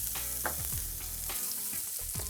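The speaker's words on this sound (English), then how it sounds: "next thing we need to cook is our pancetta" Pancetta fries in a pan for a beef casserole, giving a steady close sizzle and crackle with a few soft stirring scrapes and clinks throughout.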